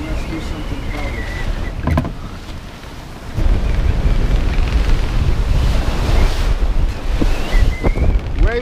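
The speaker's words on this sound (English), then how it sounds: "Waves are picking up for sure." Gale-force wind roars across the microphone and waves wash and slap against a sailboat at sea between Iceland and the Faroe Islands, a steady loud rush that swells stronger midway.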